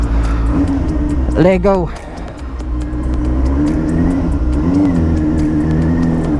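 Benelli TNT 600i inline-four motorcycle with an aftermarket exhaust pulling away in first gear, a steady engine drone with a rising rev sweep and a gear change, close and loud, with a voice speaking over it.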